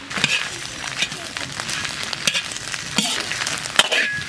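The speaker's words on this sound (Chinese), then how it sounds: "锅里不倒油，把猪心、小肠、猪肺水分往干炒一下" Pig heart, small intestine and lung are dry stir-fried in a wok without oil, making a crackling sizzle punctuated by repeated scraping and clanking of the spatula against the metal, close and fairly loud.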